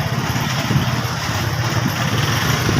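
A motorcycle engine idles with a steady, close low chugging throughout.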